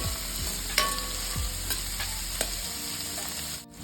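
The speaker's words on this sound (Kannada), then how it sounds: "ಟೊಮ್ಯಾಟೊ ಕೂಡ ಸ್ವಲ್ಪ ಫ್ರೈ ಆಗಬೇಕು" Chopped medium tomatoes sizzle and fry in a pan while a spoon stirs through them, a steady close hiss broken by a few sharp scraping clicks against the metal, with no voices.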